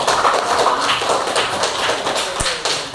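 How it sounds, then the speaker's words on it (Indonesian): A classroom of children claps for a group of classmates, a busy, uneven patter of many small hands, fairly close and steady, ending with a single sharp thump near the end. "tepuk tangan dulu buat kelompok"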